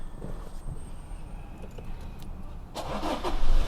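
A 2019 Toyota Revo Rocco 2.8G 4x4 automatic pickup starts up: a quiet stretch, then the engine cranks and catches near the end and rises into a louder, steady running rumble.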